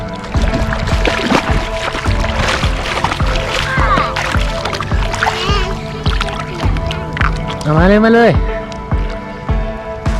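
A toy boat ferries toy cars across water during a pretend flood, making light splashing and sloshing with a steady ticking, clicking rhythm, while someone talks excitedly over it close by.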